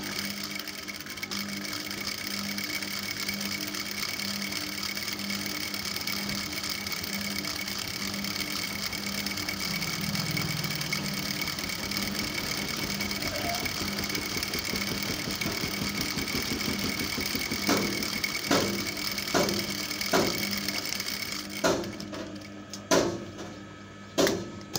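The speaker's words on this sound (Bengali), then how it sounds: "আমি এবার এটাও ডাবল সেলাই দিয়ে নেব।" A sewing machine runs steadily and continuously while double-stitching a skirt, a close mechanical hum and patter, ending with a few sharp clicks and knocks.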